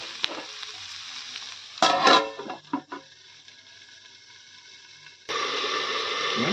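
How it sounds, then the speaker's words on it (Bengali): Fish and elephant-foot yam sauté in a pan with a steady close sizzle and frying crackle, broken midway by a few louder stirring scrapes and clatters before the sizzle swells again. "এবার আমি এবার দেখে দেখে 5 মিনিট কষিয়ে নেব"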